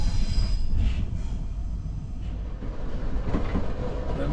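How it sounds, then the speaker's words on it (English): An overnight sleeper train from Rotterdam to Dresden rumbles steadily along the rails with a low roar, faint squeals and rattling from the carriage, no voices. "the train's been going about an hour and 15 minutes"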